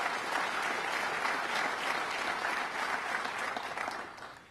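An audience at a governor's budget address on Staten Island claps steadily, a dense sustained round of applause that tapers off at the end.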